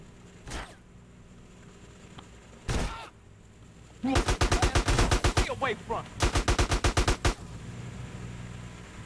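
Shotgun fire in GTA San Andreas: two separate heavy blasts, then two rapid volleys of sharp, loud shots in quick succession with a short gap between them, set against low game ambience.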